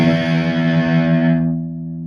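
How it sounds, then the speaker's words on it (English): An electric guitar run through the Boss GX-10's overdrive distortion, slightly pushed, strikes one loud, sustained, gritty chord that rings out and gradually fades, with nothing else heard. "It's like an overdrive already, but it's a little bit pushed rather than a Tube Screamer"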